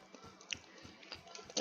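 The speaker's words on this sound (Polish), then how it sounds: "Przepraszam, że jem teraz chrupka." A person chewing a crunchy corn puff snack up close, quiet irregular crunches and soft bites scattered over about a second and a half, louder at the end.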